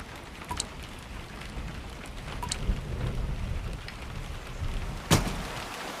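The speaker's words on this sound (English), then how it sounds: "That's just a little rain." Light rain falls steadily in a continuous soft hiss, with scattered louder drops and a brief sharp crackle partway through.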